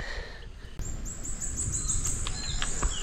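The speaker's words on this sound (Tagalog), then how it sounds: "Naririnig mo ang mga huni ng mga ibon sa mga puno" Birds chirping and calling in trees on a quiet Saturday morning in Nueva Vizcaya, with several thin, high calls scattered through steady outdoor background noise.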